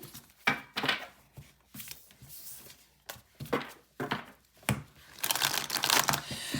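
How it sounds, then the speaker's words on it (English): Tarot cards being shuffled by hand, a close, quiet series of papery riffling and crinkling bursts in an irregular rhythm, with no talk. "I'm gonna give that a good shuffle"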